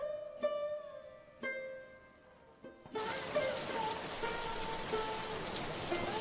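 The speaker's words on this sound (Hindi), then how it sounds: "कहाँ जाएंगे हम इस बरसात में, इस तूफान में?" Rain pours down during a storm, a dense steady hiss that starts abruptly after a few soft melodic tones and continues evenly to the end.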